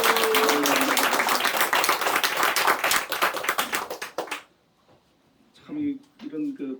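A church congregation claps together in a dense burst of applause at a Sunday morning service, loud and close for about four seconds before it stops, followed by someone speaking.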